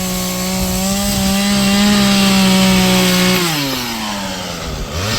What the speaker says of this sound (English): I guess she likes the chainsaw